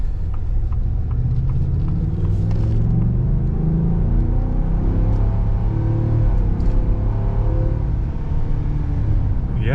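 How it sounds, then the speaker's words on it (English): The 7.3L V8 of a 2023 Ford F-350 Lariat SuperCab rumbles low and steady, with deep engine tones that rise and swell as it revs, heard close and loud with no talking. "It's a good sounding engine."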